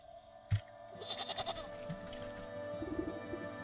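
A short goat bleat from the video game Wytchwood rises over a soft, sustained musical backdrop, with a brief thump near the start and no voices.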